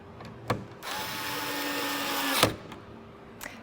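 A power driver whirs for about two seconds, tightening apex screws during an installation, a single steady buzzing run bracketed by brief clicks, close and alone with no talk.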